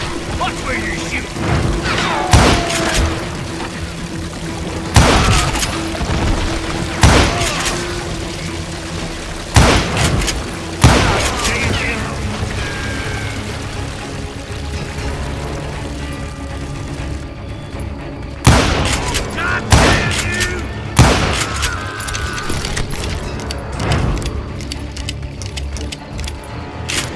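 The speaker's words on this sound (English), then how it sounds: "Watch where you're shooting." Gunshots ring out in the Wild West video game Call of Juarez Gunslinger, loud sharp cracks and booms spaced irregularly over a continuous game soundscape, with voices talking at times.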